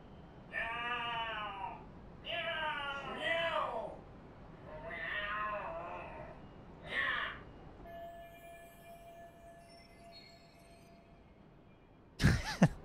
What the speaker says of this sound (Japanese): なんだ、猫の喧嘩か。